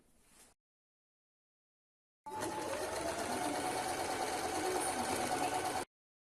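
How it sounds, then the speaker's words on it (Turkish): A sewing machine stitches elastic onto a medical scrub cap in one steady run of a few seconds, preceded by a short whir and silence, close and moderately loud with no speech. "Buraya kadar makine dikişi yapacağım."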